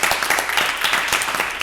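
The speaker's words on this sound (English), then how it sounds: "Let's give another round of applause for Deputy Chair Onizime Satella and Chairman Omari Satella." Dense crowd applause at a live fundraising webathon stream, steady and sustained with overlapping hand claps filling the space, no voices standing out.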